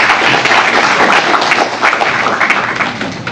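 Loud, dense applause from an audience at a startup idea forum, steady clapping all the way through without letting up.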